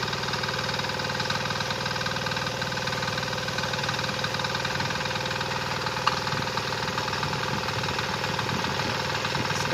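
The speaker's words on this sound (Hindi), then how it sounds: "अभी किसान क्लब का ट्रैक्टर चालू किया जा रहा है, चालू हो चुका है यहाँ पे।" A Kisan Kraft KC 300D mini tractor engine runs at a steady idle after starting, a continuous close diesel-like drone with faint knocking and vibration and no voices.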